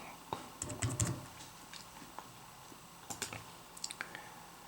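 A number typed on a computer keyboard: a quick cluster of soft key clicks, a pause, then another short burst of taps, close and fairly quiet in a still room.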